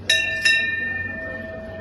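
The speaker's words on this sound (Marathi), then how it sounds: "जर जेवण आवडलं असेल ना तर घंटा वाजवायची असते" A hotel bell is struck twice in quick succession, each clear metallic strike leaving a bright tone that rings on and slowly fades, with no talking.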